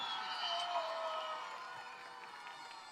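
An audience at a school cultural program claps and cheers at a distance, faint and steady, slowly tapering off.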